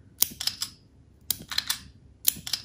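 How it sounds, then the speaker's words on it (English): Magnetic master triggers on a Black Shark 4 gaming smartphone snapping open, giving three sharp crisp clicks in quick succession, each a short bright burst, close and alone with no talk. "Very satisfying clicking noise."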